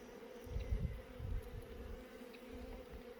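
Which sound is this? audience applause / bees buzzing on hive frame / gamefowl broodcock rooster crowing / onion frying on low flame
bees buzzing on hive frame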